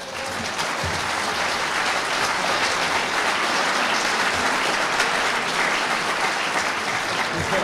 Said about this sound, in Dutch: ik wil graag een warm applaus hebben